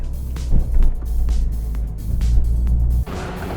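A Peugeot 208 GTI is driven on the road with manual gear changes. Deep engine and road noise rises and falls, with brief dips that fit shifts and a clear break near three seconds.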